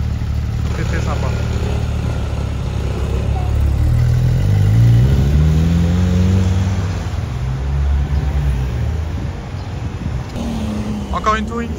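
A Porsche 911 Touring of the 992 generation with a flat-six engine passes on a Geneva street, its engine rising from a distant hum to a loud sweeping drone and fading again, with talk over it.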